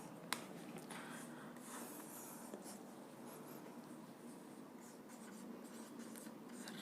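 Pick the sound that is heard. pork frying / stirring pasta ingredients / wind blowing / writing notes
writing notes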